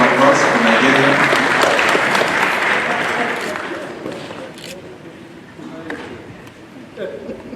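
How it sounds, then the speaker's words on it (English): Audience applause at a summit award ceremony for public service in Nairobi, a loud sustained round of clapping from a crowd that gradually thins and fades, with scattered claps and voices lingering toward the end. "A round of applause for Nigeria."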